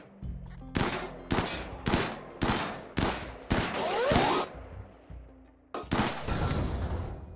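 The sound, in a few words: gunfire shooting a solar panel in video game RimWorld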